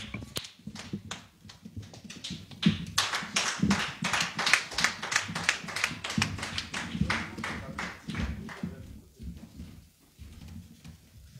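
A church congregation claps in a dense, irregular patter of hand strikes, fairly close and steady for most of the stretch before thinning out near the end, with voices mixed in underneath.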